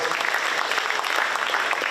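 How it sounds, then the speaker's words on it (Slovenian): Loud, dense applause from an audience at a youth basketball event welcomes former national team player Matjaž Smodiš, a continuous close wash of many hands clapping. "seveda je velik aplavz."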